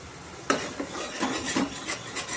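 Onions fry in a spiced tempering for stuffed bitter gourd while a spoon stirs and scrapes the pan, giving a few distinct clinks and rasping strokes over a soft background sizzle.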